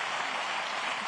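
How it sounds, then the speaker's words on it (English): Town hall audience in Reading, Pennsylvania breaking into steady, dense applause, a continuous wash of many clapping hands heard at a moderate distance with no talking. "Let's give a round of applause"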